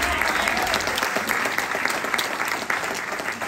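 A church congregation claps together in sustained, dense applause that holds at an even level throughout, with a faint murmur of voices beneath it.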